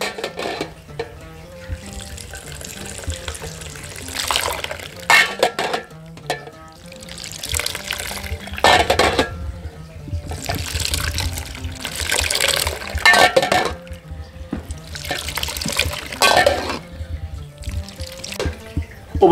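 Licorice root drink poured back and forth between glasses to build froth, repeated splashing pours in rhythmic bursts with liquid gurgling, close and fairly loud.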